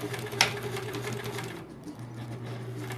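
A sewing machine stitches appliqué pieces onto a quilt block, giving a steady, close, continuous motor hum and rapid needle chatter that dips briefly near the end before resuming, with no talking.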